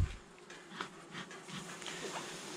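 Bees of a honeybee colony buzz during a hive inspection, forming a faint, steady hum with a few louder passing bees close to the listener; no one speaks.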